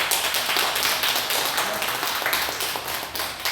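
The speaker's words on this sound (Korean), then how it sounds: "박수 한번 드리겠습니다." A church congregation claps during a Sunday service in continuous, fairly loud applause that shows separate claps and slowly thins toward the end.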